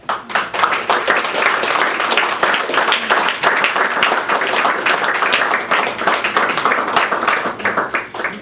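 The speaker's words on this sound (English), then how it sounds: "another round of applause for Jim Spears" An audience at a poetry reading in the Louisiana Review Reading Series gives poet Jim Spears a round of applause: loud, dense, sustained clapping from a crowd that continues evenly and then tapers slightly at the end.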